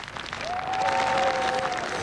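A crowd of fans applauds at the 2002 Polish Strongman Cup in Ustroń, a steady wash of clapping that swells after the first half-second and holds, with a faint sustained whistle-like tone running through it.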